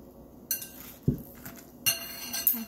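Salad tossed with olive oil in a bowl, with utensils clinking and scraping against the dish in a few light, irregular knocks and clinks close by, no talking.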